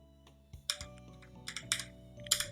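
Quiet computer keyboard typing, with scattered individual keystrokes tapping at an uneven rhythm close to the microphone.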